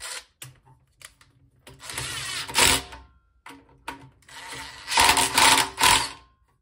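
A 10mm ratchet tightens the air box side cover nuts on a Predator 212 engine, giving several close bursts of rapid clicking separated by short pauses.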